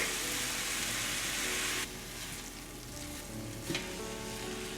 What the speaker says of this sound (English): I still got the cauliflower cooking here on medium heat.